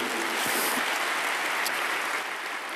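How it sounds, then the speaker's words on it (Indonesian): Congregation applause during an Easter sermon at a church, a dense, even, hissing wash of many hands clapping that holds steady throughout and eases off slightly at the end. "Berikan tepuk tangan kita untuk Tuhan kita."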